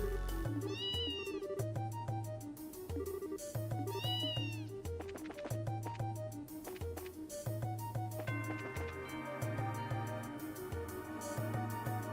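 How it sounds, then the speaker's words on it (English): A cat meows several times in short, clear, fairly close calls, with repeated tonal music throughout. "Yo, we got a cat."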